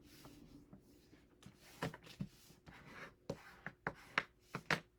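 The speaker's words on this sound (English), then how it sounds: "So we are going to fold this in half." A paper card is folded in half and creased for a handmade card sketch, giving soft, quiet rustles followed by a few sharper scraping presses near the end.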